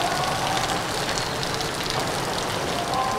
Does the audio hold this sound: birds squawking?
no